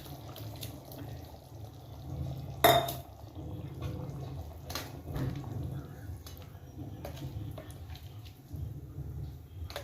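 A spoon stirs a bubbling fish curry in a pot after ground coconut goes in, with soft scraping and a few sharp clinks against the metal, close and fairly quiet.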